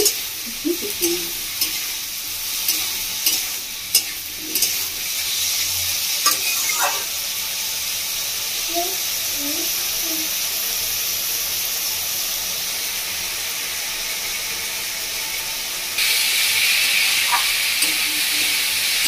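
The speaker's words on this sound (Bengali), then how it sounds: "ভালো করে কষে নিয়েছি 2-3 মিনিট মধ্যে আলু মুলো আর মুসুর ডাল" Potato, radish and red lentils stir-frying in a pan make a continuous, fairly loud hiss and sizzle, with scattered spoon scrapes and clinks near the start, and the hiss swells louder toward the end.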